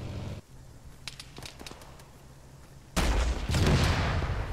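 Rocket and gunfire in a military video game: a low rumble and scattered distant shots, then a loud blast-like roar breaks in near the end and carries on as heavy sustained noise.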